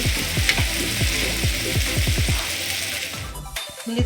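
Masala frying in a pan for a fish fry, a steady loud sizzle with repeated scraping stirs in a regular rhythm, close up, with no talk.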